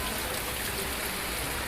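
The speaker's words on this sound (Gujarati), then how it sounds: "ફૂલ વરસાદ ચાલુ થઈ ગયો" Heavy rain pours down in a village, a dense, steady hiss of falling water filling the short stretch evenly with no other sounds standing out.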